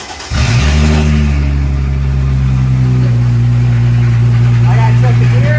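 A Mercedes-AMG car engine cranks and catches after a new battery install, then settles into a steady, loud idle with a low rumble that holds up close, a voice briefly heard at the start.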